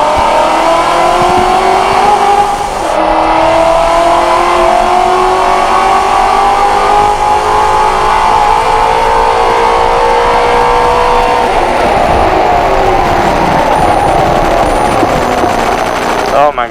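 A modified 2017 Ford GT350 races a wet track, its engine droning loudly and steadily through shifting revs with rough, rasping texture, while a driver's voice talks over the roar.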